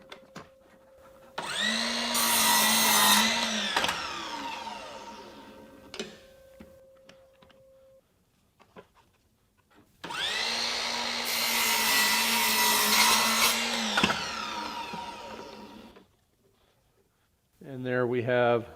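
A Ryobi 18V 7-1/4-inch sliding compound miter saw makes two cuts through crown molding, each a loud whining motor burst with blade bite that spins down. Someone speaks briefly at the end.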